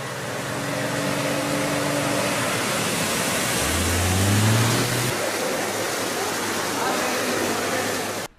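Floodwater rushes across an inundated road near Madampe with a loud, continuous roar, mixed with a low droning engine-like hum before it cuts off abruptly.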